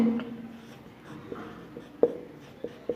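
Chalk or pen writing on a board during a Class 10 maths lesson on surface area and volume, a quiet scratchy stroke sequence with a few sharper taps, faint and close, with no talk.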